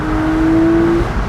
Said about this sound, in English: Oh, broke the tires loose.